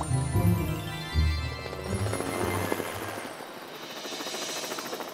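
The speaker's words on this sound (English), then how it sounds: "Morph into a helicopter." A cartoon helicopter in a children's animal show whirs with a rapid chopping rotor beat, loud and close, with the pulsing thump fading into a lighter buzzing whir.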